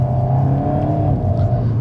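An Alpine A110 sports car accelerates hard, its engine note loud and close, a strong rising drone that holds through a short burst with no voices.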